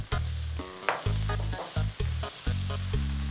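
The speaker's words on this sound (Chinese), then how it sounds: "爆炒香之后呢就要放一下我们的主角象拔蚌" Geoduck is stir-fried in a hot wok with ginger, scallion, garlic and chili, loud bursts of sizzling broken by rhythmic tosses and clanks of the spatula, roughly twice a second, close and without talk.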